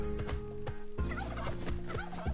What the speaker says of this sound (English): Oh, there's so many turkeys here.